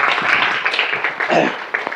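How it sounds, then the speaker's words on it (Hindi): Students in a classroom clap loudly together in a short burst of brisk, dense applause, with a voice mixed in over the clapping. "तो भाई सब लोग अपने लिए जोरदार ताली बजाएं।"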